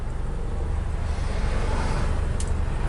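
A 1976 BMW 2002 engine idling smoothly with the car stopped, a steady low rumble that stays even throughout, close by and without talk.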